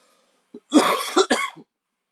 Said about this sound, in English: Excuse me, I'm about to cough.